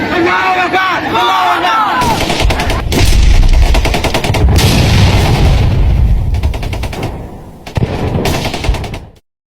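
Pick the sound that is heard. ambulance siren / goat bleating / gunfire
gunfire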